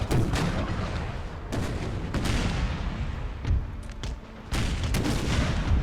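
Ship cannons fire canister shot in the video game Napoleon Total War: a dense, rumbling barrage of booms and cracks, several sharp volleys in quick irregular succession over continuous battle noise.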